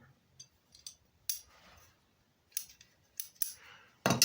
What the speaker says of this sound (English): This pair of sheet metal shears.